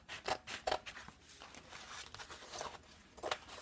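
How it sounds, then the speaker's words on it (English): Scissors cut paper around a square for a reverse canvas craft, making a series of quiet, irregular snips and rustles close by. "So you truthfully could just get scissors, and you're just going to cut this out"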